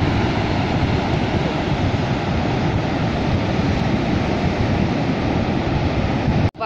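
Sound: waves at the beach

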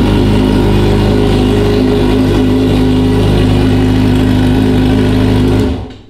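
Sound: motorcycle engine started and idling in neutral

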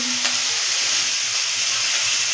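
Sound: stirring masala in a pan

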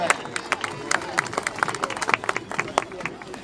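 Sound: audience applause

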